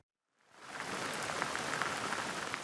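Steady rainfall during inclement weather across the Corn Belt of the Midwest, fading in from silence to a dense, even hiss of drops that continues without pause, with no voices.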